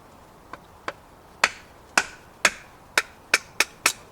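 A Ganzo G729 folding knife is struck through wood to split it, with a series of sharp cracking knocks that start faint and come louder and faster, about ten impacts close by.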